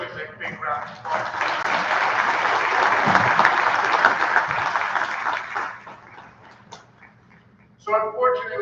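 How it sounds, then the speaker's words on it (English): Audience applause for the coaches at a school athletic awards program, a sustained loud clapping crowd that fades out, with a speaking voice before and after. "Let's give our coaches a big round of applause."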